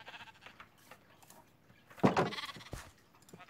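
Sheep in the Minecraft video game letting out a single bleat midway, over faint background game sounds.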